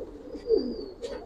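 A Giribaz pigeon in a loft gives a single close, throaty coo, with a softer second call near the end over a faint steady background tone.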